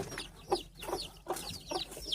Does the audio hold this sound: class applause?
no